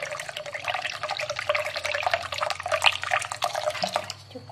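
Ice water pours into a container for a sweet shaved-ice grass jelly and Milo drink, a continuous close splashing trickle with small gurgles and drips, slackening briefly near the end.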